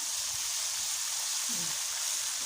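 Onions frying in a pan, a steady soft sizzle with fine crackling that stays even and fairly quiet throughout, with no talking over it.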